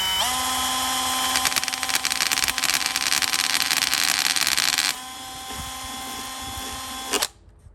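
A Sundpey Pro drill driver boring a small hole, with a steady high whine that runs for about five seconds, drops to a lower pitch, and then stops.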